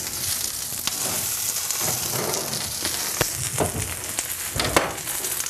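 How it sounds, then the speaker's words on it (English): Kale chips sizzle on a tray in the oven, a steady crackling hiss with scattered sharper pops, close and continuous with no talking. "Oh, they're sizzling."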